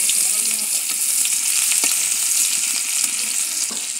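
Chopped onion frying in oil in a wok, a steady loud sizzle with occasional stirring clicks and scrapes, close up with no talking.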